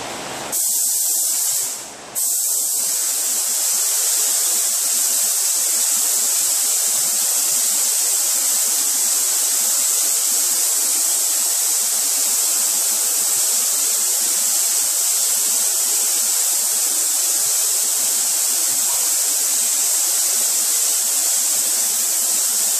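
A paint spray gun hisses continuously while applying base coat to an aftermarket fender for a 2006 Chrysler Pacifica, loud and close after two brief stops at the start.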